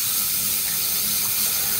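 Water runs and drips off freshly cleaned rod ends in a workshop, making a steady close-up splashing hiss for the whole moment, with no talking.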